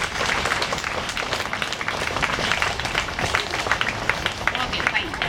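Classroom of children giving themselves a round of applause, a dense, fairly loud patter of many small hands clapping steadily, with voices mixed in.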